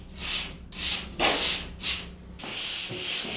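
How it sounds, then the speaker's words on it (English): A dry sanding sponge and a folded piece of sanding screen rub in the inside crease of a drywall corner, making four or five short, close back-and-forth scratchy strokes followed by a softer, steadier rub. "A dry sanding sponge and a folded piece of sanding screen help me smooth out hard to get at areas like the very inside crease of this corner."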